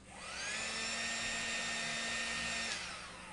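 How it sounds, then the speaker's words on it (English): A small toy bug vacuum runs steadily with a high, whiny motor drone, close and loud, starting up and winding down again over a few seconds. "So I have this bug vacuum."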